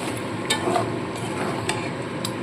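Boiled red lentils tipped into a hot pan and stirred for a fish-head masoor dal, a soft continuous sizzle with a few sharp spoon scrapes against the pan.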